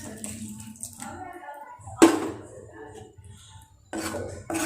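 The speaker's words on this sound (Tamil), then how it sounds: "அரை கப் தண்ணி இப்போ சேர்த்துக்கலாங்க." Half a cup of water poured into masala gravy in a cooking pan, giving a brief splash and sizzle, with clinks of metal utensils and talk around it.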